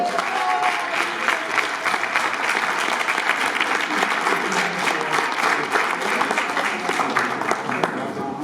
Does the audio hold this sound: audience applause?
yes